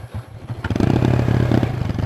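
A motorcycle engine starts up and revs nearby, settling into a loud, steady chugging idle with some clatter.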